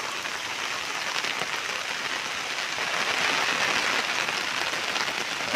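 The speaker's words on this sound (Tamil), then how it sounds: "நல்ல மழை, ரொம்ப மழை பெய்யுது." Heavy rain pours onto flowering plants in a garden in Pondicherry, a dense, steady hiss of drops that swells slightly louder midway, with no talking.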